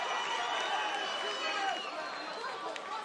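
An arena crowd at a UFC Fight Night bout roars and chants in a sustained, dense wash of voices that holds steady for a few seconds, distant and loud.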